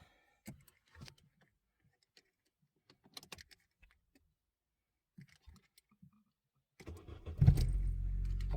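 A car key, copied without a transponder, gives a few scattered clicks and jangles in a quiet space. The car's engine then cranks, catches and settles into a loud, steady idle nearby.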